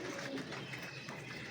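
Pigeons coo softly in low, throaty bursts while eating, against a faint, noisy background, quiet and close-ish, with no talking.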